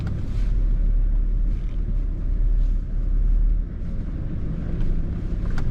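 A car engine rumbles loudly and unevenly as the driver struggles to shift gears, with deep low-end surges that dip and rise again, plus faint clunks and wind buffeting.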